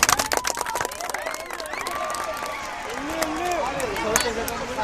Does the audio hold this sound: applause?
yes